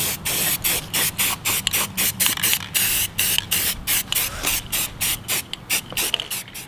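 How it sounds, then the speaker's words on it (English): An aerosol can sprays primer onto a brake caliper in quick repeated bursts, each sharp hiss cut off by brief pauses in a fast, uneven rhythm, close and loud. "Give the can a shake and start spraying."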